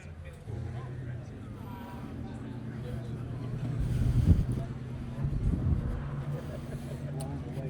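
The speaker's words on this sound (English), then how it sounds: "There's that wind." Gusting wind buffets the microphone at an outdoor Coffee and Cars meet in Dripping Springs, Texas, a low rumbling roar that swells midway, with people talking throughout.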